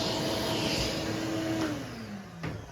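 A vacuum cleaner drones steadily while dust is cleared from a classical guitar headstock during a headstock repair, its motor pitch sliding downward as the nozzle is held back from the wood.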